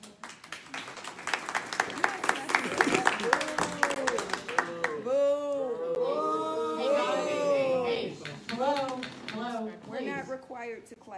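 Audience applause at a meeting between the Los Angeles District Attorney and Black Lives Matter Los Angeles, a few seconds of scattered clapping that gives way to people talking.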